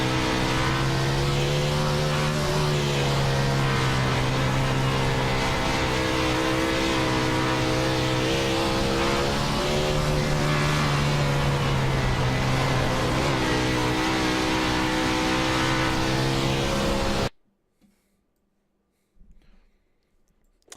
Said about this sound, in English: This is a bit what these non-wing sprint cars sound like in real life.